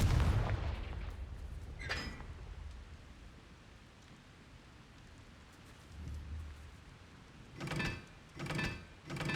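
Confringo fire spell blasts in the video game Hogwarts Legacy: an opening burst, a brief crack, then three sharp explosive bursts in quick succession near the end over a low rumbling background.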